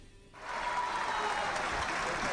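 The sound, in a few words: Fuerza Popular congress members applauding in Congress plenary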